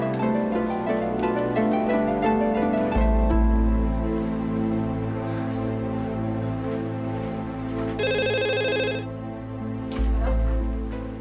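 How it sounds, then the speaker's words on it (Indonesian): Telephone ringing at night in a domestic drama scene, heard as a short bright ring burst over a steady musical score, moderately loud with no talk. "Udah kamu telepon dia sekarang"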